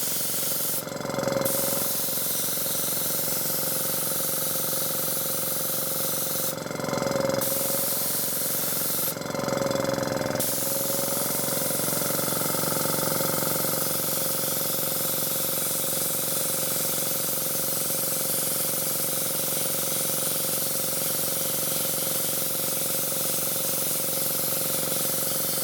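An airbrush sprays paint through a Razer logo stencil, a close, steady hissing that runs continuously with a few short pauses near the start.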